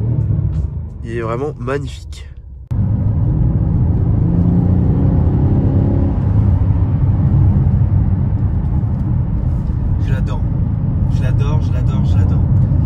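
A Mercedes-AMG GLC 63 Edition One, 476 hp, with exhaust valves open and foot on the brake, is revved into a loud, deep, sustained rumble, with someone talking briefly before and again near the end.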